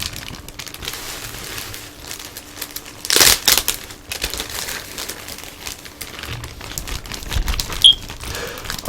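Plastic bag and bubble wrap crinkle and rustle while Mortal Kombat action figures are unboxed, with soft scattered crackles and one sharp, louder burst of crumpling partway through, close by and with no talking.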